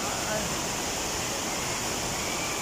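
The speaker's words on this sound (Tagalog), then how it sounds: "Yan ang dito Mabu Waterfalls, Mother Falls." Ditumabo Mother Falls, a waterfall in Aurora Province, pours in a steady, dense broadband roar that fills the whole clip. No distinct events break the wash of falling water.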